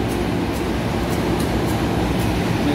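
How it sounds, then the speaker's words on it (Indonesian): A CC201 diesel locomotive coupled to the Walahar commuter train idles at a station, giving a steady, loud low rumble with constant engine drone and faint periodic clicks, no voices. "Lokomotif CC201 ini baru saja disambung kereta Walahar."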